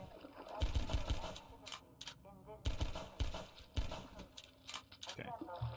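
Gunfire in the Half-Life 2 video game, with repeated loud broadband shot bursts in uneven clusters over a steady rumble, alongside some faint voice-like sounds.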